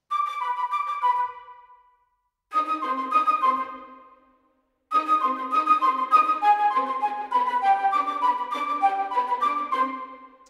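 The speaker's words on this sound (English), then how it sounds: "the flutes, in terms of their range, could play another octave higher if we wanted them to." Flutes voiced an octave higher in Logic Pro orchestral programming, three players on the part, play a bright melodic line in three phrases separated by short silences, the last phrase long and sustained.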